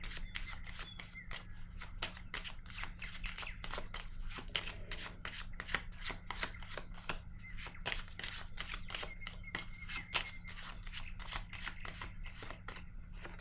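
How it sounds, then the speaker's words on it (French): Tarot cards being shuffled, a rapid continuous run of crisp riffling flicks at moderate volume with little else in the background. "Je vais piger une autre carte."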